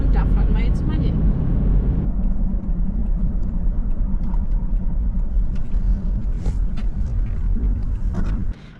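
Car driving on the way north toward the Zebra Stone Campground, a continuous low engine and road rumble with people speaking over it.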